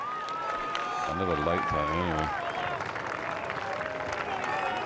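A golf crowd at the Ryder Cup stirs and murmurs around a player's swing, a steady diffuse rumble of spectators with a brief burst of movement, heard under a commentator's talk.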